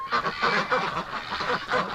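Wintering ducks and geese honk and quack in a busy cluster of repeated calls, close by and fairly loud, in a farmyard pen where the ducks have been eating eggs.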